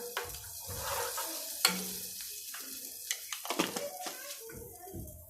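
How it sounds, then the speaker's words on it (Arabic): Cumin hits a hot pan for koshari with a soft sizzle, followed by stirring and light clinks of utensil on metal, close up and moderately quiet. "هنزل بحبه كمون اهو. كشري اساسه كمون"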